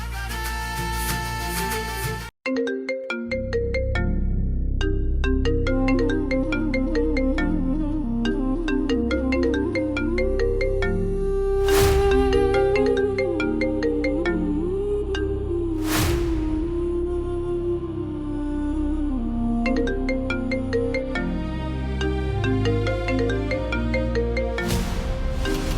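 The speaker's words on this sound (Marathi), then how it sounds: "लिमराचाच फोन आहे ना?" An incoming call rings out as a melodic electronic phone ringtone, repeating its tune continuously and loudly for a long stretch after a brief cut near the start, with no voices over it.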